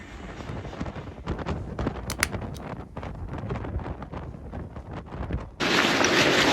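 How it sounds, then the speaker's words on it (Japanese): Gusty wind blows across the microphone in uneven bursts, ending in a steady loud rush of wind. "この風は追い風だけど釣りになるんだろうか"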